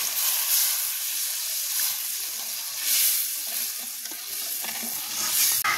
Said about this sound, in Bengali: এবার পরিমাণ মতো আমি জল দিয়ে দেবো।